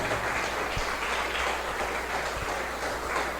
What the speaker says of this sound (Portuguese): Eu quero que você aplauda forte ao Senhor nessa noite.